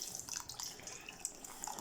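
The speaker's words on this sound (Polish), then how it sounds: "Dolejemy piwerka." Beer trickles and drips steadily into a pot of thick bean stew being thinned in a home kitchen, a close, continuous wet splashing pour.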